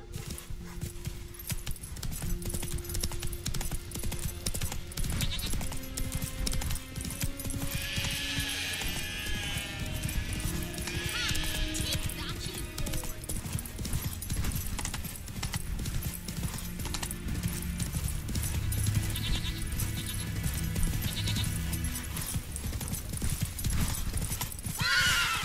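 Roach, the horse in The Witcher 3, gallops with a steady, rapid clip-clop of hooves over a continuous game music bed, with a few whinnies along the way and no talking.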